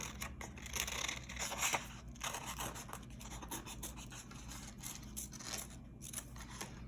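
Scissors snip steadily through paper while cutting out a flower shape for a snowdrop card, a close, continuous run of soft crunchy cuts with light scratchy rustles between strokes.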